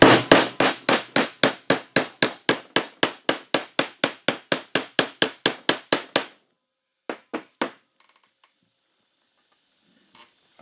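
Bearing press hammered onto a rear brake part of a 1999 Honda FourTrax 300 ATV, about thirty sharp metallic strikes in a fast, steady rhythm, then a pause and three final blows, close and loud with no talk.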